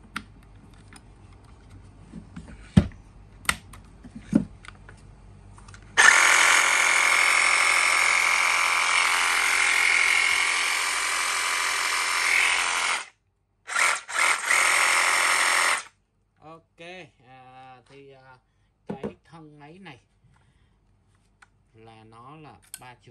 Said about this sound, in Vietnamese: Cưa kiếm của hãng The One, sản xuất tại Mỹ